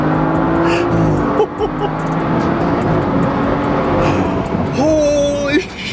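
BMW 335i F30 with a big turbo accelerating hard, the engine held at about 3,000 rpm before launching, then a strained roar with a rising whine toward the end, close and loud inside the car.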